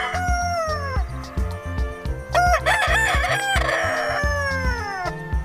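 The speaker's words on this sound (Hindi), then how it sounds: "रूस्टर को हिंदी में मुर्गा कहते हैं। ये सुबह बांग देता है।" A rooster crows several times in a loud, drawn-out cock-a-doodle-doo, close by, with clucking and farmyard fowl sounds underneath.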